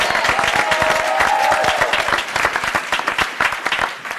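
An audience at a mayoral honors ceremony claps loudly and continuously, many hands blending into a thick roar that thins toward the end into more distinct, separate claps.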